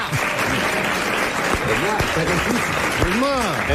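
Studio audience applause on a French television talk show, a broad continuous clapping wash with a voice talking clearly over it throughout.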